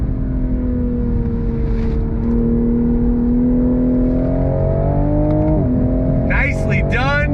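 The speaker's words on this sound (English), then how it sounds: "Downshifting." A 2022 Toyota GR Supra with aero mods downshifting and accelerating on track, a loud steady engine drone that climbs in pitch, drops sharply at the shift, then revs again with quick blips near the end.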